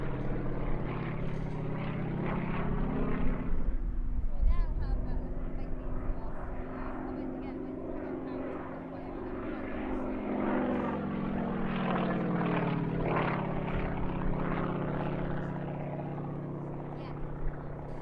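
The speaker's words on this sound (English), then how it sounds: "This is a very comprehensive display of this popular 1970s training and aerobatic aircraft" A Yak-50, a 1970s aerobatic training plane, flies a display at an airshow, its propeller engine droning and swelling as it maneuvers, heard steadily throughout, with a commentator talking over it.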